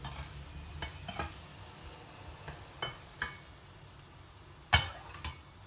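Chickpeas being stirred and coated in spices in a frying pan, with a soft steady sizzle underneath and scattered scraping clacks of the utensil against the pan, a sharper knock near the end.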